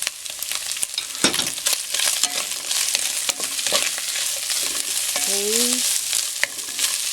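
Chicken pieces go into a hot frying pan for macaroni soup and hiss in a steady close sizzle with stirring scrapes and clinks of a utensil, while a voice speaks briefly.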